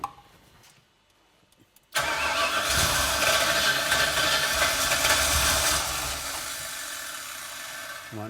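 Holden Kingswood 304 V8, freshly swapped in, sits quiet with faint clicks before cranking and catching into a loud, rough running roar that holds for several seconds, close by, with no talking.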